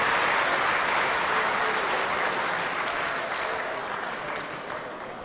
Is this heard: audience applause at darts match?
yes